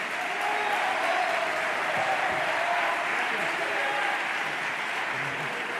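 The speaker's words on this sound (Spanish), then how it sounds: "Por favor, fortísimo el aplauso para don Jesús Huerta de Soto." An audience at the 2024 Juan de Mariana Prize ceremony applauds Jesús Huerta de Soto with loud, sustained clapping that fills the whole stretch, with a faint murmur of voices underneath.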